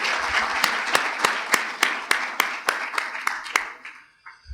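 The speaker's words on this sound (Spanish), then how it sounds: "Un fuerte aplauso para todos y para todos ustedes también" An audience at a space development and resource exploration forum applauds in a dense burst, with sharp rhythmic clapping accents standing out before the sound thins and fades out over about four seconds.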